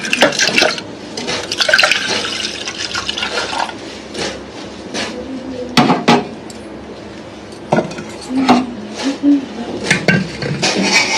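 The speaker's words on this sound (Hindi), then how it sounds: "ये हम डालेंगे दूध।" Milk pours into a pot for tea in a home kitchen in a Bihar village, a splashing, gurgling stream with clinks of metal utensils and a few brief knocks.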